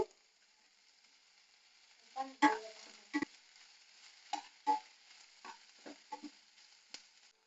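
Crab pieces frying in a pan in a Mangalore-style home kitchen, a soft steady sizzle broken by sharp clattering stirs and scrapes, close and fairly quiet with no talking.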